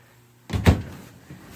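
A closet door in a 2015 NeXus Phantom 32SC RV opens with a single close wooden thunk and a short rattle, followed by quiet.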